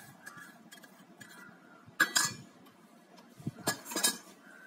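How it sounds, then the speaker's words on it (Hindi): Chopped potato and onion for bread pakoda get stirred in a bowl, the spoon knocking and clinking against the metal in two short bursts amid quiet scraping. "हम सब इसमें मिला देंगे आलू कटे हुए, प्याज,"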